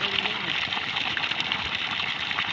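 Electric motor pump drawing water for farm irrigation in summer, a continuous close gushing and churning flow with a steady hum underneath, no talk.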